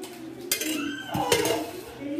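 A cooking pot for kadhi pakoda being set on a lit stove, two sharp metallic knocks and clanks of pot against burner, with a voice talking in between.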